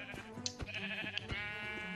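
A Minecraft sheep bleats in quick, wavering calls, with several short bleats close together, loud and up front with no talking.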